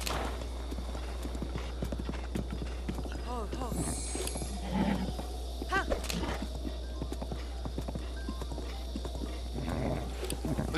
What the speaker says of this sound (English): The horse has almost the same color hair as Link, too.